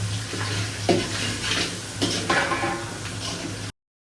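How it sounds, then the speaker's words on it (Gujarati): Oil sizzles steadily in a pan as spice-stuffed green chillies fry, with a few soft clinks and stirring sounds, continuing for several seconds before cutting off abruptly. "મરચાં સાતળી લઈશું, જોઈ શકો છો તમે।"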